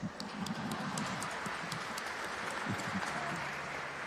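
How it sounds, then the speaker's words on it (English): Audience clapping at a Hamilton town meeting, a rough burst of hand claps fairly close and moderately loud that carries on steadily, uneven, with no voices over it. "I think that calls for a round of applause"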